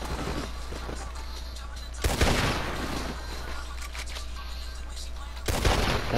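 Gunfire in the video game Red Dead Redemption 2, with two loud, sharp shots a few seconds apart over a low steady game background. Bursts of softer crackle sit between them.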